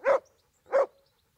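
A dog in the video game Kingdom Come: Deliverance gives two short, loud barks about half a second apart, clear and close with silence around them.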